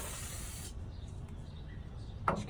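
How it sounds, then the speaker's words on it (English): A spray can hisses steadily over muddy vehicle brakes during a brake job, a close, continuous burst that cuts off abruptly, leaving low workshop background with a brief tap near the end. "Just give her a nice spray down."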